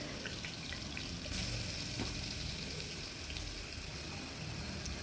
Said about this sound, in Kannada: ಇಲ್ಲಿ ಎಣ್ಣೆ ಕಾದಿದೆ. ಸೊ ಇದಕ್ಕೆ ನಾವು ರುಬ್ಬಿರುವಂಥ ಮಿಶ್ರಣವನ್ನು ಹಾಕೋಣ.